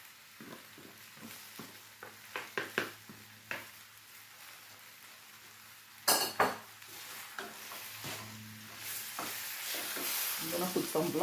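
Ackee frying and being stirred in a pan, with soft sizzling under scattered clinks and scrapes of a utensil against the pan, one sharper burst of sizzle midway, and a low steady hum throughout.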